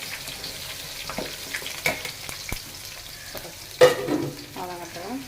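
Two chopped large onions sauté in a pan for Chennai-style fish curry, with a soft steady sizzle under scattered taps and scrapes of stirring and one louder clatter near the end.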